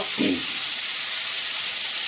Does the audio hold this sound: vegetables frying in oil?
yes